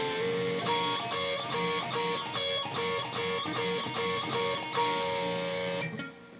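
An overdriven electric guitar plays part 2 of the solo slowly, repeated double-stop upstrokes in a steady pulse with a few held notes, ending on a ringing chord that fades.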